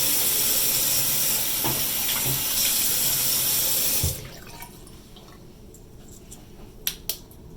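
Cold tap water runs steadily and loudly from a faucet for hand washing for about four seconds, then shuts off, leaving quiet room tone with a couple of soft clicks.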